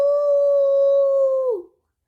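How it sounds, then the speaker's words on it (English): A single long dog howl, loud and close, holding one steady tone for about a second and a half before sliding downward and cutting off into silence. "And then came that howl he could know anywhere."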